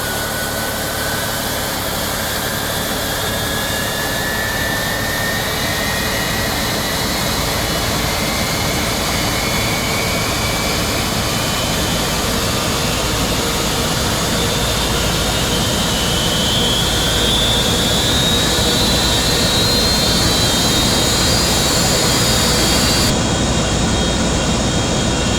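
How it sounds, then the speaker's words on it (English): FlightFactor 767 left jet engine spooling up during start in X-Plane 12: a steady, loud turbine roar with a rising whine that climbs gradually over about twenty-five seconds, no voices. "Alright, starting with the left engine, ground, looking for 15."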